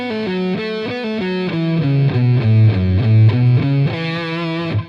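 A distorted electric guitar plays a fast, legato lead line from a guitar solo, with notes stepping down and back up in a steady run, loud and close, with no voices.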